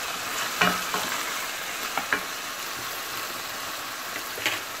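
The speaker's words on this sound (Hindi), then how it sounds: "हमारा जो है कीमा अच्छी तरीके से भून चुका है" Minced lamb keema browning in a pan as it is stirred: a dense, steady hiss of frying fills the whole stretch, broken by a few brief scrapes of the spoon against the pan.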